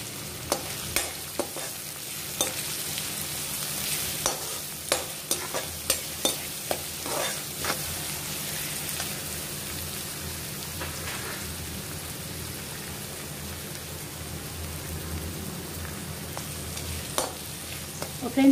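Vegetables for chicken fried rice sautéing in a hot pan with spring onion, a steady loud sizzle broken by frequent sharp clicks and scrapes of stirring, busiest early and thinning out later, no talk.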